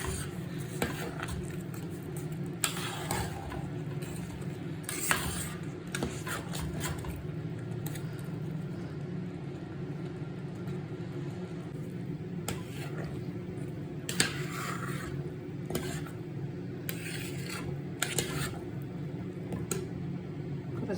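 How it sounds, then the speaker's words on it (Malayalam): Jaggery pongal being stirred in a pan, repeated scraping and rubbing strokes of a spoon against the metal at an uneven pace, close up over a low steady background hum, no talk. "ഇളക്കി കൊടുക്കും"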